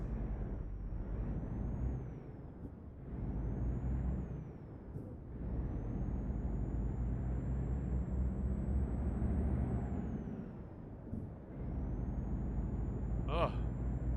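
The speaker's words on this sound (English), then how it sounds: "this truck just sounds fantastic" A truck engine in Euro Truck Simulator 2 drones steadily at low pitch with a faint whine that rises and falls, ending in a short hiss.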